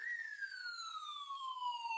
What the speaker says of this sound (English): we're going to sound that siren